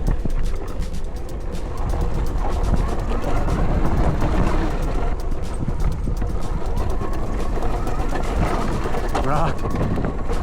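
A Sur-Ron electric dirt bike rides a rocky trail, with a continuous rushing whir mixed with wind buffeting and rattling over bumps, loud and close for the whole stretch.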